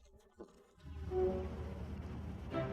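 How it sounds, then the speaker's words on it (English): A low, steady insect buzz swells and hangs in the air, droning continuously and fairly softly for a couple of seconds. "It's the bees"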